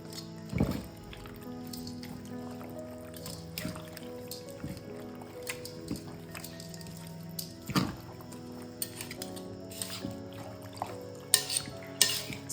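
Roasted red capsicum being mixed with garlic, vinegar and olive oil in a bowl, with soft clinks of utensil against dish and wet stirring sounds in an uneven rhythm, plus a few sharper knocks, all fairly quiet and close.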